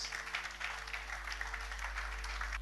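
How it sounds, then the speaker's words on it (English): A church congregation claps during a morning service, a dense, fairly faint patter of many hands heard through a steady electrical hum, with no speech. "Can you clap from all our ears?"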